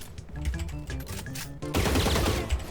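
Rapid automatic gunfire in Valorant, shots punching through a box on the Sunset map, a fast even string of loud cracks that gives way to a denser, noisier burst of impacts.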